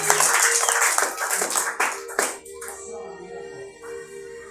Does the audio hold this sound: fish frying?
no